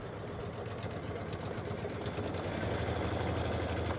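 A sewing machine sews straight across a fabric bag in one continuous, fairly quiet run, its steady motor hum and fast stitching drone holding even and slightly swelling toward the end.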